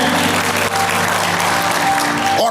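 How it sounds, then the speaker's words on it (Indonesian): A church congregation claps together in a dense, sustained burst of applause. The sound is loud and steady, with no one speaking over it. "Beri tepuk tangan."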